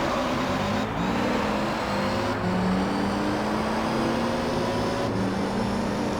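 Castrol Supra race car engine from Gran Turismo Concept on the Tokyo R246 circuit, a steady loud droning roar with rising and falling gear-change pitch sweeps, accompanied by other cars nearby throughout.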